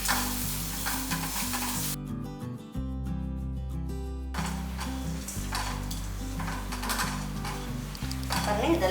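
Grated coconut, dried red chillies and spices dry roasting in a pan, a steady close sizzle and scrape of stirring running throughout, with background music and no speech.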